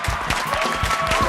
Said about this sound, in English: major applause?